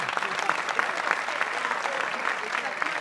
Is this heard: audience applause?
yes